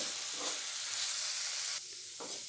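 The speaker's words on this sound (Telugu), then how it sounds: "ఈ పప్పుని మనం ఇందుట్లో వేసుకోవాలి వేసుకున్న తర్వాత ఇలాగే బాగా మనం వేయించుకోవాలి" Moong dal frying in a pan gives a soft, steady sizzle with faint stirring scrapes, quiet and close, with no voices.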